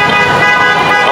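Car horns blare at a street rally against Marcos and corruption, a loud sustained honking up close amid traffic noise.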